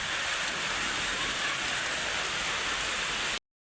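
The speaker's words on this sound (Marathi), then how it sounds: "या बघा मित्रांनो पाऊस किती झालाय अजून तर भरपूर चालूच आहे" Heavy rain falling in a dense, steady roar of hiss that stays constant throughout before stopping abruptly at the end.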